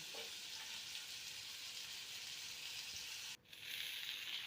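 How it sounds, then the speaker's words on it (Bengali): Onions seasoned with salt and turmeric sizzle steadily as they are stir-fried in a pan for a Bengali aloo bharta, a continuous close frying hiss with a brief dip near the end, no talking. "পেঁয়াজটাকে সুন্দর করে ওপর নিচ করে নেড়ে চেড়ে হালকা ভাজা করে নিতে হবে"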